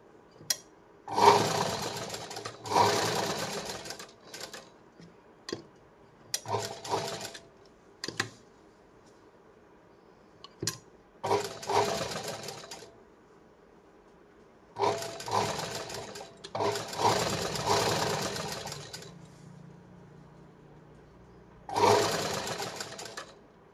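A sewing machine stitches the sleeve seam of a four-tuck blouse in repeated bursts of fast whirring, with several separate runs broken by pauses and soft handling of the fabric in between.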